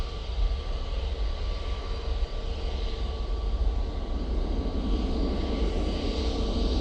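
A Jet2 airliner at Manchester Airport rumbles steadily on the runway, its engine roar loud, continuous and unbroken across the whole stretch, with a low, heavy drone.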